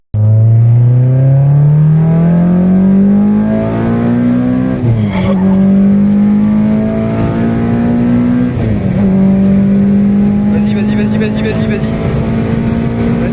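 An engine-swapped Citroën Xsara revs hard and accelerates through the gears, loud and close, with the engine note climbing steadily and dipping briefly at each shift.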